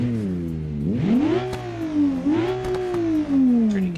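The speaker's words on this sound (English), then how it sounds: "Let's go for a little test drive." A 300-horsepower car in the BeamNG driving game revs loud and close, its engine note climbing, dipping, then rising again into a sustained, whining drone, with no talking over it.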